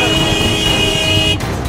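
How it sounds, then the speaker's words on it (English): A car horn sounds one loud, steady honk on a narrow road for over a second, then cuts off, leaving the low rumble of the moving vehicle. "So sometimes he's honking just in case there's a car coming up the other side."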